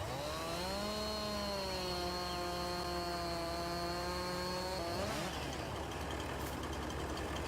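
A chainsaw cuts down a tree in Farming Simulator 19, its engine holding a steady high buzz for several seconds before dropping off sharply into quieter rustling.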